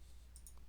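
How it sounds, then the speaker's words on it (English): A single computer mouse click sound effect, a faint, brief, crisp tick over a quiet low hum, lasting well under a second. "So here's my mouse click sound."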